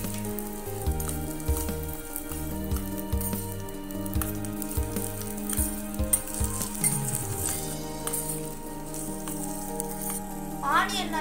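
Onion, curry leaves and chilli fry in hot oil with popped mustard seeds, a steady sizzle under loud background music.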